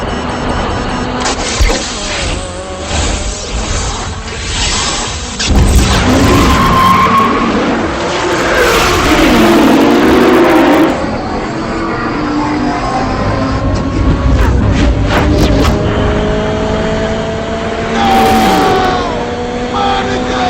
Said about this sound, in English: So he's basically driving, facing Vin Diesel. It's him side to side. The race is getting close